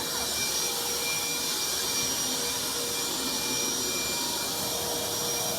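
A vacuum cleaner runs steadily and loudly throughout a flooding plumbing mishap, a continuous broadband whoosh with a high whine that never lets up.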